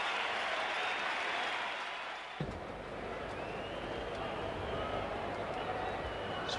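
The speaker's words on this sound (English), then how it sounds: "a warm ovation for him from this MCG crowd" Sustained applause and cheering from a large cricket crowd at the Melbourne Cricket Ground during an India versus Pakistan match, a steady wash of distant clapping that continues throughout, with a brief shift in tone partway through.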